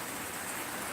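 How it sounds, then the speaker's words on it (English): Heavy rain pouring during days of flooding downpours, a dense, steady hiss of drops striking surfaces, loud and continuous with no other sounds. "We've had heavy rain for the last 4 days, and now it's really picking up"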